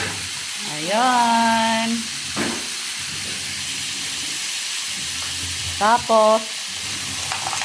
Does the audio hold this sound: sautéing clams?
yes